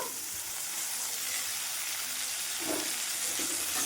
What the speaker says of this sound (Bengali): দিয়ে ভালোভাবে নাড়িয়ে চাড়িয়ে নেব পেঁয়াজ কাঁচা লঙ্কা আদা টমেটোটা খুব ভালোভাবে কষানো হয়ে গেছে আমার